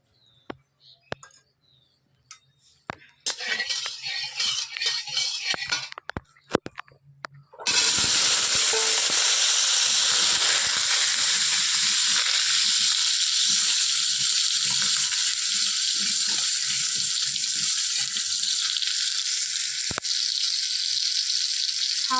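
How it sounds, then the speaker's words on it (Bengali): Potatoes drop into a little hot oil in a village kitchen: a few clacks and clatters, then a loud, steady sizzle that holds for the rest of the clip. "প্রথমে আলুটাকে ভেজে নেব অল্প একটু তেল দিয়ে"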